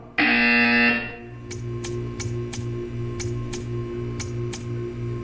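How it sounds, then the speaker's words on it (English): A loud buzzer sounds once in the Portal 2 video game, a harsh, bright tone lasting about a second, followed by a steady background hum with regular ticking pulses. "You will hear a buzzer."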